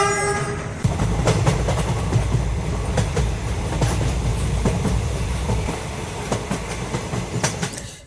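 A passenger train runs loud and steady with continuous rumbling and repeated clickety-clack of wheels over rail joints, a horn sounding briefly at the start.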